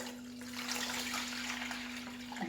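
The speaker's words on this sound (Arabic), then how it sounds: "راح نخوي هذاك الماء اللي عبرته معاكم" Water is poured out into a basin as part of making karantita, a continuous splashing, gushing flow heard up close against a steady low hum, with no talking.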